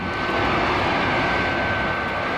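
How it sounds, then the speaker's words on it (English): A robot plane from a 1977 Wonder Woman audio drama slows to rendezvous and hover, its aircraft engine a loud, steady roar with a thin whine running through it. "Robot plane slow to rendezvous with ship and hover."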